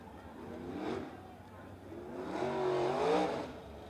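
A dirt track race car engine revs at a speedway. A rising, droning note swells twice over the crowd ambience, stronger and higher the second time.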